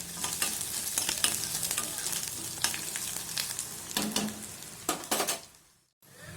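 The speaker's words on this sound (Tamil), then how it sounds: "இந்த சோம்பு பூண்டு விழுதை வந்து நான் ஆட் பண்ணுறேன். இதை நல்லா கலந்து விட்டுக்கலாம் ஒரு தடவை." A fennel-garlic paste sizzles gently in a hot pan while a spoon stirs and scrapes against the metal, with repeated clinks over a steady frying hiss that fades out at the end.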